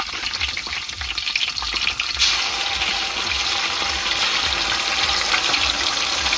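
Ginger garlic paste dropped into hot oil with mustard seeds, cumin and bay leaf, a loud continuous sizzle that flares up sharply partway through and keeps hissing with light stirring.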